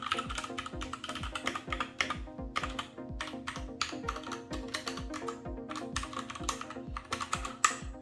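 Steady, rapid typing on a Keychron K6 mechanical keyboard, with soft clacky keystrokes in a continuous rhythm, close up, with almost no talking.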